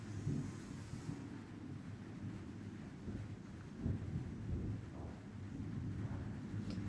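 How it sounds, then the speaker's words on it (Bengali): Thunder rolls in the sky during a rainy spell, a faint, low, distant rumble that swells and fades beneath a quiet background hiss, with no voices. "আর আপনারা হয়তো শুনতে পাচ্ছেন আকাশ কিন্তু অনেক ডাকাডাকি করতেছে।"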